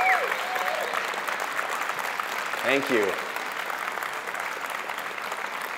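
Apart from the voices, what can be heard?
audience applause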